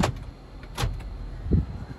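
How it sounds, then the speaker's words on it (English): Power door locks on a Toyota 4Runner Trail Edition 4WD clunk in a few short mechanical thuds, spaced apart and fairly close, with quiet background between. "I'm gonna do the door locks."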